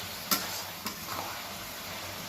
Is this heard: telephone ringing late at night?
no